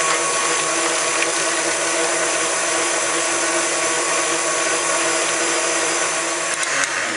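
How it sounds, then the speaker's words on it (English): An electric mixer whirs steadily and loudly while mixing chocolate peanut butter pie filling in a bowl, a constant high motor hum with no breaks. "Help if I plugged in my mixer, huh?"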